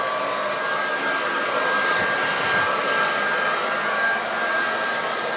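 A hair dryer runs steadily and loudly for the whole stretch, a continuous broadband whoosh with an even motor whine and no voices over it.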